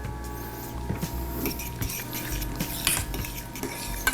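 Metal utensil scraping and clinking in a pot while cheese is stirred into thick, creamy truffle mac and cheese, a steady close-up run of soft scrapes and occasional taps with no talking.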